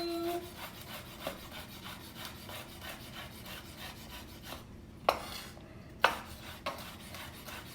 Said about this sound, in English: Skin side down once we're gonna start chopping it.